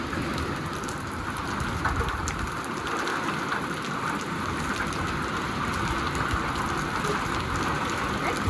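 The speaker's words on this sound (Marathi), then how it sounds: "चांगला पाऊस पडला" Steady, dense rainfall drumming continuously on surfaces, loud and unbroken throughout with no voices.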